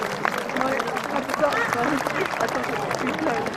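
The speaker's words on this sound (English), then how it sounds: "Let's give Rosie a really big round of applause." Outdoor spectators at a castle eagle show clapping for a bird handler, a soft, steady spread of applause with voices talking over it.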